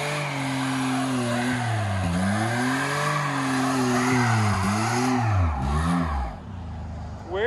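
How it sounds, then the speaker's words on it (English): A Pontiac G6 spins its tires in a burnout, a loud, sustained squeal with wavering pitch over a roaring engine for about six seconds before it cuts off abruptly. "Good old little burnout"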